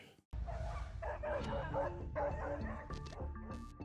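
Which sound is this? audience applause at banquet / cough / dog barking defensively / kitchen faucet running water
dog barking defensively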